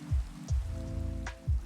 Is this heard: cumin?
no